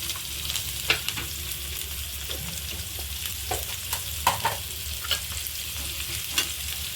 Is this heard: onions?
yes